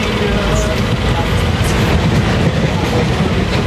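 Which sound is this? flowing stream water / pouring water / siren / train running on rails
train running on rails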